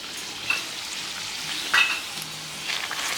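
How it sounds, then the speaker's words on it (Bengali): Bhatura bubbling in hot oil, a steady close sizzle with a few brief spatters and crackles over its length, and no voices. "লাল লাল করে ভেজে নিলাম"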